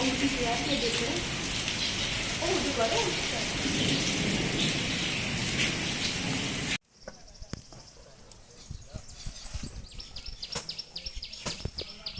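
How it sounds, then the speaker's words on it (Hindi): Steady heavy rain hisses loudly for several seconds during a motorcycle ride, then gives way abruptly to a quieter scene with scattered drips and faint insect buzzing. "लेकिन उधर भी बारिश आ रही है"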